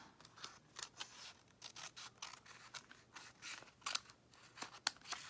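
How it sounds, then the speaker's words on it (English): Snips cut through paper in a series of quiet, crisp snipping clicks, irregular and close, with a few sharper cuts toward the end. "you're going to take your snips and you're just going to snip"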